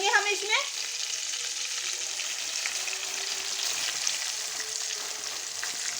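Sugar and rice cook together in a pot for mutanjan, a Pakistani sweet rice dish, giving a steady, close, moderately loud sizzle and bubbling hiss that runs on without a break, with a few brief stirring scrapes at the start.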